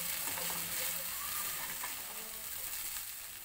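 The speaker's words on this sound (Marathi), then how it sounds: "चांगलं परतून घ्यायचं." Pieces of bajra bhakri (pearl millet flatbread) mixed with soaked poha are sautéed in a pan. They give a soft, continuous sizzle with faint stirring scrapes, gentle and close, with no talking.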